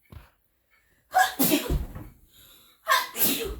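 A single close sneeze with a sharp inhale and burst, followed moments later by another loud breathy burst; otherwise quiet.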